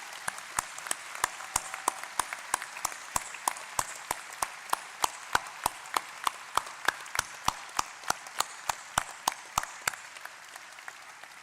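Applause at a Sheffield Hallam University graduation ceremony: sharp, evenly spaced claps repeat steadily for several seconds over a quiet hall background, fairly faint overall.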